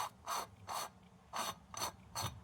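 Metal parts of an old mechanical Toledo torch, a smudge pot, being fitted together: six short, close ratcheting metallic clicks and scrapes in a steady rhythm, each a brief burst, with no voices.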